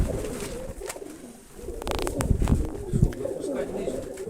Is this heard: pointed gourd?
no